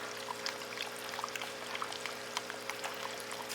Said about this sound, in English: When I opened the water valve, it makes the water come up through the little hoses.